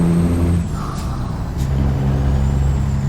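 A truck engine drones steadily while driving, its low rumble loud and continuous throughout, with a brief hiss of air partway in.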